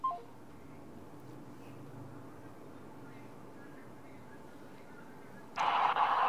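A phone call is cut off, and a loud, harsh electronic tone bursts in near the end after several seconds of faint, quiet line noise.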